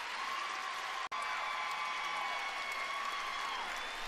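An arena crowd at the 2016 World Figure Skating Championships applauds Yuzuru Hanyu's short program with sustained, even clapping and cheering from a large audience, broken by one brief dropout.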